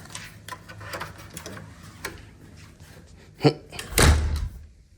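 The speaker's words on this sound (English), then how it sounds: "These doors require some effort to open." A heavy door in a London building is pushed open with effort, giving a sharp knock and then a longer thudding swing near the end, against quiet background and faint talk.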